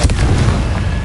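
A single Confringo blasting spell exploding in Hogwarts Legacy, a loud close boom with a burst of crackle that dies away into rumble within about a second.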